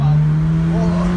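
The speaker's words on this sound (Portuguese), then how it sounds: "A Porsche." A Porsche sports car passing close by on a city avenue, its engine a loud, steady droning hum that rises slightly in pitch over the short stretch, with voices talking over it.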